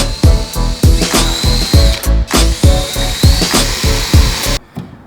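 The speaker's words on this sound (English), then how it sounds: "I'm gonna go ahead and put a hole through the kit, line it up on the fender, and drill through the fender." A power drill bores through a Datsun 280Z fender and widebody kit in a series of loud, close bursts of whining motor and grinding bite, ending abruptly.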